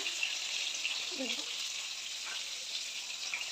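Double-yolk eggs fry in a pan with a steady, bright sizzle that holds even throughout, with a brief soft voice murmuring faintly in the middle.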